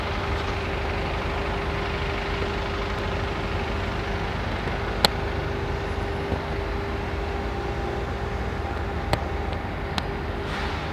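Heavy road traffic on a rainy day rumbles steadily as a dense, continuous wash of engine and tyre noise, with a few faint clicks and no clear individual vehicles standing out.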